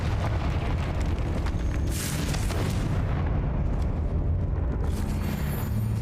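A Confringo blasting spell in Hogwarts Legacy erupts in a booming explosion with a roaring, crackling rumble that swells and fades over several seconds.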